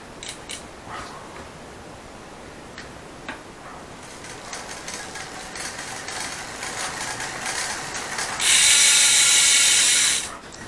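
A bicycle rear derailleur turns over with a soft, steady ticking and faint mechanical whir as the drivetrain spins, and a harsh hissing burst rises briefly near the end.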